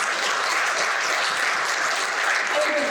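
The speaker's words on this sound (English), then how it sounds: "It is, that absolutely deserves a lot of applause." Gala audience applauding in a large room, dense continuous clapping from many people at a steady level throughout.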